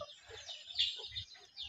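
Hens clucking in short, repeated bursts close by, a mother hen let out to roam after hatching a brood of chicks.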